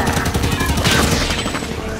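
Rapid gunfire in the Halo 5 video game, dense overlapping bursts of automatic shots at close range, loud and continuous throughout.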